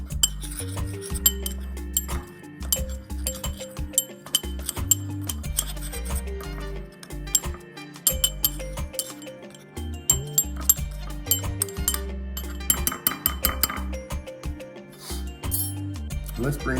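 Utensils clink and scrape against a bowl as fish seasonings are stirred together, a run of bright irregular taps and rubs over a low background hum, close by throughout.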